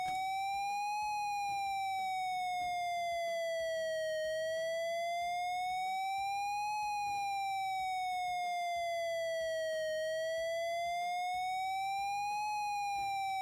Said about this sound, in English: We gotta listen to that friggin' siren.